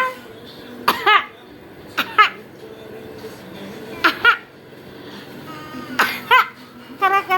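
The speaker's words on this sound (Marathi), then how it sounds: "खोकला आला." A small child coughs several times in short, sharp bursts with pauses between them, close by, over a quiet background hum.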